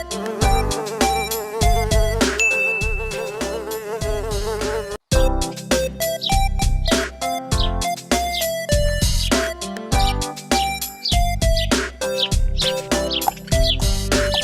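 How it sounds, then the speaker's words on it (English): Cartoon bees swarm after people with a continuous, insistent buzzing, layered over bright musical tones that keep shifting for the whole stretch apart from one momentary break. "But why are the bees chasing them?"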